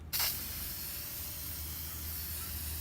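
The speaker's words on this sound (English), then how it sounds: "And then we're just going to spray the bottom of it." A continuous hissing spray from a spray paint can starts abruptly and holds steady for a few seconds, close and fairly quiet.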